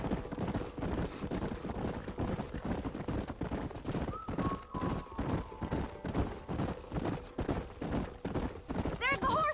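Rapid, steady clip-clop of galloping hooves throughout in the video game Red Dead Redemption, with a horse whinny near the end and voices talking over the rumble.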